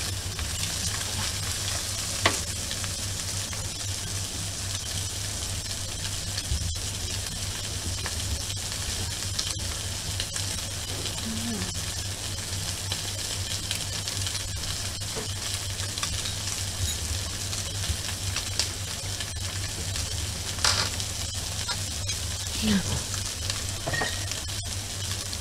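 Greenland halibut fillets fry in a pan, giving a steady, low sizzle and crackle that runs throughout, with a few faint clicks and scrapes.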